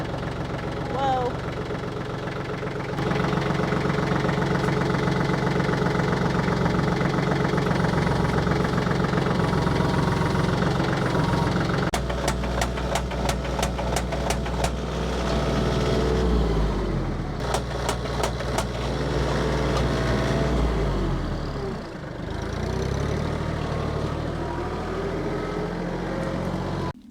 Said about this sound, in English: So the little tractor is working on the T-post.